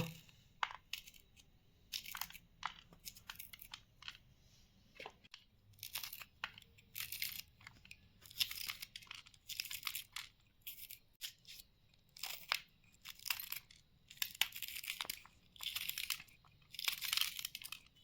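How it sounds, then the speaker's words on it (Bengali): Chillies being chopped with a knife on a board, a run of quick, crisp cuts in irregular bursts, fairly close and moderately loud, with no talk over them. "আমি মরিচটা কুচি করে নেব"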